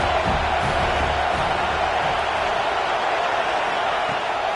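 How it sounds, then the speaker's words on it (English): A home crowd at a football game roars in a steady, distant wash of cheering, faint and continuous with no distinct claps or voices standing out. "This crowd trying to make life miserable for this offense."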